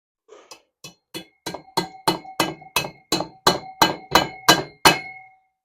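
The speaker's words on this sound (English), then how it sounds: "I had to tap it in with the back of a screwdriver" Metal bearing tapped into an aluminum case with the back of a screwdriver on a KLX110 shift drum job: about a dozen sharp, ringing clinks in an even rhythm, growing louder, close by and with no talk.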